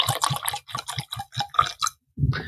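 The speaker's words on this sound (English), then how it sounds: "It gurgles. It gurgles when it pours." Whiskey glugs from a Weller bottle through its little pour spout in a rapid run of about ten close, wet gurgles, followed by a brief pause and a soft low thump.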